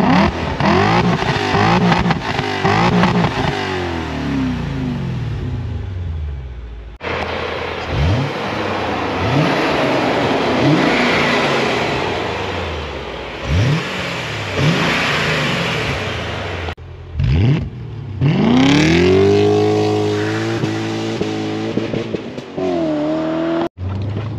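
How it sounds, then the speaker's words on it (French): BMW M5 E-class sedan on a road drive, its engine revving hard in repeated sharp bursts, then pulling through rising acceleration sweeps with gear changes, loud and close with brief lulls between runs. "Déjà, le son moteur est bien plus violent"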